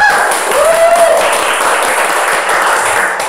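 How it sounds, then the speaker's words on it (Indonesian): A studio audience claps for a guest on a talk show, a steady burst of applause with a brief tonal whistle-like sweep near the start. "Tepuk tangan untuk Nenek dulu"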